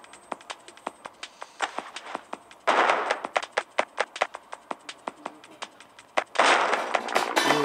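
Gunfire in the mobile shooter Stick Warfare Blood Strike crackles as quick, sharp shots in uneven bursts, with two denser rattling volleys, loud and close with no talk.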